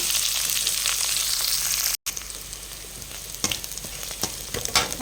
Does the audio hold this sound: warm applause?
no